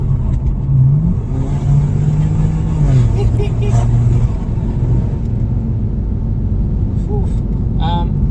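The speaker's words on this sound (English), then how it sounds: "I'm gonna shift down so you hear the exhaust" A 2007 BMW 335i twin-turbo engine rumbles loudly as it downshifts, the exhaust note rising and falling, with a few pops and crackles near the end.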